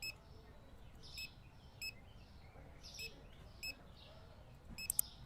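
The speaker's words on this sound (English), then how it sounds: "Beep, boop, beep." A payment terminal keypad in the Supermarket Simulator video game gives a series of short, thin electronic beeps at irregular intervals, about eight in five seconds, faint over a low background murmur.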